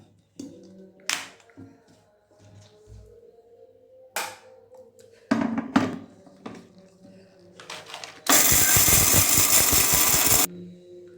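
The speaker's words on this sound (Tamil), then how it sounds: "வெந்தயமும் துவரம் பருப்பும் வறுத்து எடுத்துருக்கிறேன், தனியாத்தூளும் இதில் போட்டிருக்கிறேன், அரைச்சிக்கலாம்." A mixer grinder pulverises roasted fenugreek and toor dal with coriander powder for sundakkai vathal kuzhambu, a loud, dense whirring burst of about two seconds that follows scattered kitchen clatter and handling knocks.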